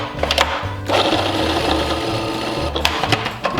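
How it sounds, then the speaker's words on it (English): A food processor pulses garlic in short repeated motor bursts with a stuttering, uneven rhythm, loud and close, and blade and chopping clatter fills the gaps between pulses, with no speech. "we're gonna continue to pulse the garlic in the food processor"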